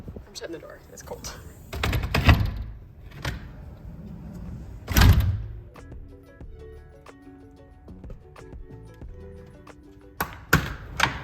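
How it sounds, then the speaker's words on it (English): A door being shut on a cold, snowy day during a South Dakota blizzard, with thuds and knocks under breathy talk and shuffling, and sharp impacts near the end. "I'm shutting the door."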